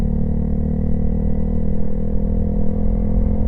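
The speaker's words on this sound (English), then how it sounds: "kick it up into third, apply throttle," A motorcycle engine drones steadily and close after a shift into third gear, its low throttle rumble holding even under acceleration.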